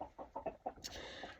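Chickens clucking inside a large chicken house, a series of short rhythmic clucks followed by a brief higher squawk, quiet and close.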